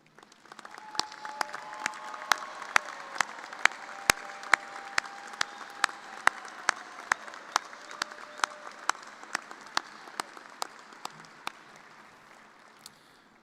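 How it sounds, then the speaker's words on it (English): Commencement audience applauds award recipients at an architecture, planning and design ceremony: a broad, fairly distant wash of clapping with sharp individual claps ringing out rhythmically on top, swelling and then fading. "would all the recipients please stand so you can be recognized with a round of applause"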